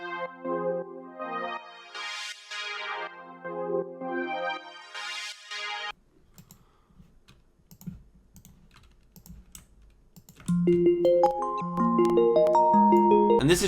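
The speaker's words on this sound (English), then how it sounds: "I just grabbed this BP Gator preset and it sounds like this." A layered synth melody from the BP Gator preset in Albino, in a producer's FL Studio beat, with sustained chord swells fading out, then sparse clicks and a brighter plucked arpeggio line coming in louder near the end.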